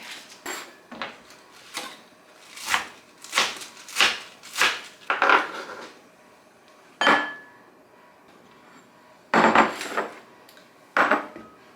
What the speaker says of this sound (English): I'm just going to slice off a little bit and put the rest back into the Ziploc bag